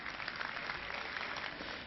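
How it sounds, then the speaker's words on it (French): Broad, nearly unanimous applause from French deputies fills the National Assembly chamber, a dense, steady wash of clapping that is fairly faint and lasts under two seconds. "Applaudissements quasi général des députés français."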